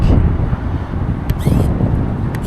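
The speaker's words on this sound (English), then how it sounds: "today I feel like it may almost be too windy" Strong wind blows in New York City, loud buffeting rushes pounding the microphone continuously with gusty surges and a few brief higher-pitched squeaks.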